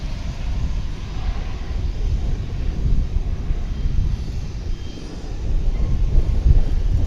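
An American Airlines jet arriving at DFW airport from Austin gives a steady, broad roaring rumble that swells slightly toward the end, continuous for several seconds with no talking.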